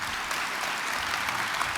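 A seated audience at a Saturday-afternoon panel discussion gives steady, even applause to welcome the panelists, heard as a continuous wash of clapping at a moderate distance.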